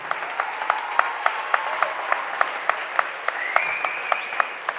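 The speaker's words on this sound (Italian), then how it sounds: "Ancora un applauso a Filippo Pacini." An audience at a regional music competition final applauds a performer, with a dense wash of clapping and a strong rhythmic beat of synchronized claps pulsing steadily through it.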